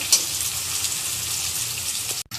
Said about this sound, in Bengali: পেঁয়াজ কুচি হালকা পেঁয়াজ ভেজে নেব বেশি ভাজবো না